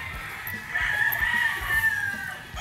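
A yellow-legged Kelso gamefowl rooster crows once, with a sustained, strained call held for about two seconds. It sounds fairly close, over a low background rumble, with no talking.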